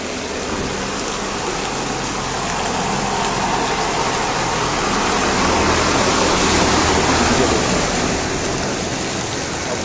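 Heavy rain pours down steadily in a market street in Ramgarh Shekhawati, a dense unbroken roar of water with runoff flowing through the flooded lane and a faint engine somewhere beneath it.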